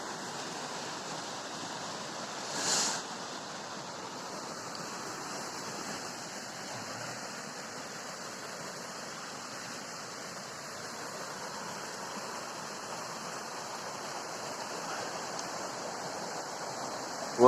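A steady rushing roar of the Shavla mountain river in the Altai in September fills the whole stretch, loud and unbroken, with no voices.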